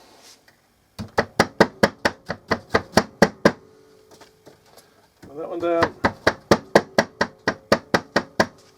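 Two quick runs of rapid, close hammer taps on metal, about a dozen each, separated by a pause where a person speaks briefly, flattening the corners of a wire basket for an electrolysis tub.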